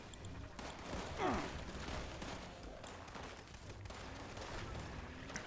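Tesla rifle from the Fallout 76 video game firing repeatedly during a crowded battle event: a rapid, faint stream of crackling shots and zaps that runs through the whole stretch under the surrounding game noise.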